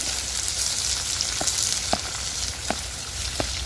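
Onion and capsicum fry in hot oil with a steady, close hiss, and a few brief crackles and pops punctuate it. No one speaks.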